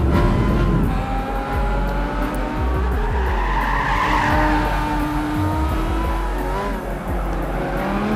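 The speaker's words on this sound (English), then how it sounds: "This is an excellent track for drifts, especially with this car." Tires squeal continuously as a car drifts through a corner in Gran Turismo 5 at Grand Valley Speedway, the screech rising and falling over a steady, loud engine drone for the whole stretch.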